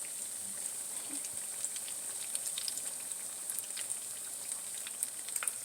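Banana cue frying in organic extra virgin olive oil, a steady close sizzle with scattered pops and crackles throughout, no voices.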